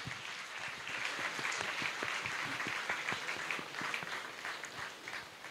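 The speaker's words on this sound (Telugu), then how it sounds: "అందరం కూడా చప్పట్లు కొట్టి మన ఆనందాన్ని వ్యక్తపరుద్దాం" Faint applause from a church congregation honouring a Monsignor priest and his family, a dense patter of many hands clapping evenly for several seconds at a distance.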